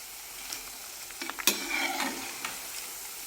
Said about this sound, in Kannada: ಕಡಿಮೆ ಉರಿಯಲ್ಲೇ ಇದನ್ನು ಬ್ರೌನ್ ಕಲರ್ ಬರೋವರೆಗೂ ಫ್ರೈ ಮಾಡ್ಕೊ